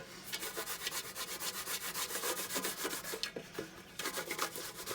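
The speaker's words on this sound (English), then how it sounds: "let's see what kind of scrubbing action we're going to get out of this loofah right now" A loofah scrubby rubbed hard across a dish, making rapid rhythmic rasping strokes, loud and close, with a brief pause before the scrubbing resumes and no talking.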